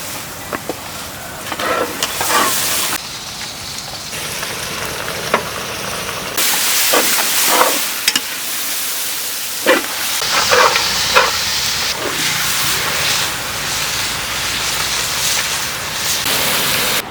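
Mutton pieces frying in a hot pan for a Punjabi dhaba-style curry, with a steady close sizzle and hiss, occasional stirring scrapes and bursts of louder spitting, no talking.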